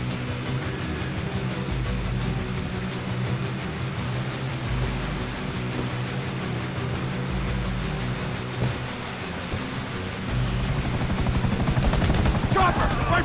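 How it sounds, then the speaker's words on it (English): In Grand Theft Auto V, a pursuing helicopter's rotor drones loudly and continuously while bursts of gunfire crackle, with game voices talking over the chaos. "Chopper! Right behind us!"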